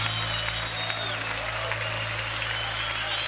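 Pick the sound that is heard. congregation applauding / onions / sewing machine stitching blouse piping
congregation applauding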